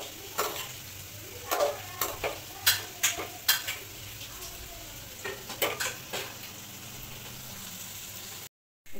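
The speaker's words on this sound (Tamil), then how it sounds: "சிக்கன் எலும்பு குழம்புக்கு கறியை போட்டாச்சு" Chicken pieces frying and stirred in a pot for a chicken bone curry with onions, a run of irregular scraping stirs and clinks over a low steady sizzle, close and moderately loud, ending in a brief silence.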